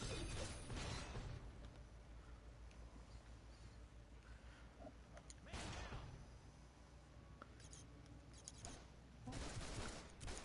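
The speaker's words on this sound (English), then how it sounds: "So let's try our shotgun." Shotgun blasts in the DC Universe Online superhero game: several loud, broadband bursts come in separate clusters, with a busy backdrop of game effects between them and no talking.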